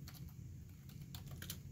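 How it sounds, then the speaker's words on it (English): Fast typing on a computer keyboard while writing Java code, with quick irregular key clicks at close range and fairly quiet, with no voices. "I'm just typing too fast today."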